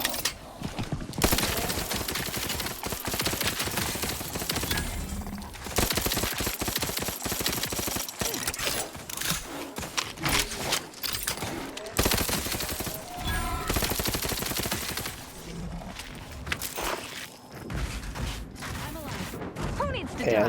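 A gun fires in long rapid bursts in Outer Worlds 2, loud repeated volleys broken by brief pauses, with game sounds and some talk mixed in.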